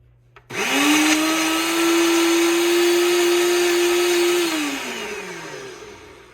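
A Ninja blender blending mango lassi, its motor spinning up to a loud, steady whine for several seconds, then winding down.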